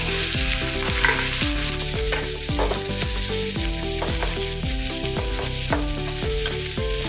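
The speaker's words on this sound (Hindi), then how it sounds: "अभी हरी मिर्च भी डालेंगे प्याज के साथ।" Green chillies and onion frying with mustard seeds and cumin in a pan for a bitter gourd, onion and tomato curry, sizzling steadily beneath a regular scrape-and-stir rhythm, close and fairly loud, with no talk.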